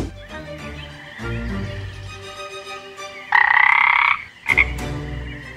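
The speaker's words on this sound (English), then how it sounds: "The only animal that can live in that swamp are frogs and toads." Frogs croak in a swamp, a loud, close, layered chorus of rasping calls, with a sharp burst of high croaking near the end.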